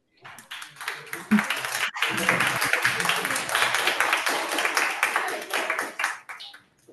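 Audience applause fills the end of an education conference session on AI, a dense, steady wash of clapping from a room of attendees lasting several seconds before tapering off, with some voices mixed in.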